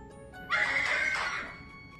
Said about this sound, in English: That's the horse making that noise.